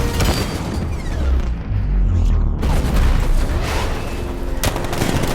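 Tank cannon fire in the video game Batman: Arkham Knight, loud heavy booms and rumbling blasts over dense battle noise, with a voice speaking partway through.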